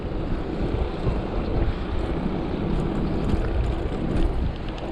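Cool mountain wind rushes past while cycling near Dingalan, Aurora, a steady roaring buffet of wind noise over the microphone, loud and continuous with no voices.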